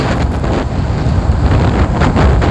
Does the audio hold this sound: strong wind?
yes